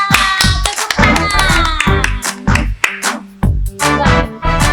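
Children and adults clapping their hands in rhythm during a kids' church service, the sharp claps landing in a steady beat with short breaks between bursts. Close and loud.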